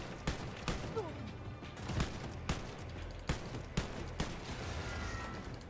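Gunfire at an enemy in the video game Wolfenstein Youngblood: a run of sharp, punchy shots at uneven intervals over a busy mechanical background.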